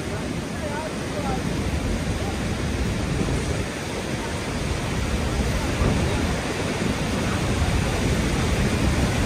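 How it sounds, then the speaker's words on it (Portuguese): Niagara Falls waterfall in Canada, a broad constant roar of rushing water heard steadily throughout, with faint voices mixed in. "vamos conhecer a cachoeira agora"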